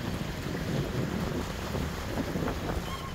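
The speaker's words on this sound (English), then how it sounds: "I'm going right into the wind" Wind buffets a shanty boat motoring at just above idle straight into the wind, a steady rough rumble and rush with faint water noise underneath, no voices.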